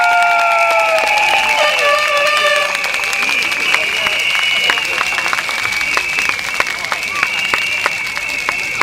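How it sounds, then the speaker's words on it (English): A rally crowd at North Vista Secondary School in Sengkang claps and cheers to welcome a resident onstage, loud continuous applause with sharp claps and shouts and a sustained tonal cheer, voices mixed in. "Round of applause."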